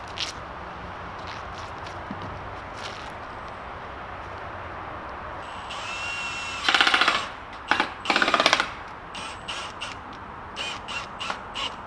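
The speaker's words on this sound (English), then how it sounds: "This drill's perfect because it lets me know as soon as it's tight." A drill drives a screw into a metal cabin roof in a few loud, bursty runs, the last ending in rapid clicking as the clutch slips once the screw is tight. Crows caw faintly outdoors in the background.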